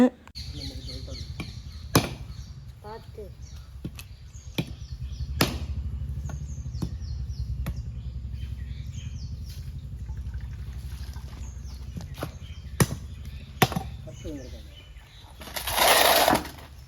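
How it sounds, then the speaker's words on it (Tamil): A man cracks open coconuts outdoors for drying and pressing into oil, sharp hard knocks spaced irregularly every second or two over a steady background hum, with a brief louder rush near the end. "இங்கே அண்ணன் தேங்காய் உடைக்கிறாரு"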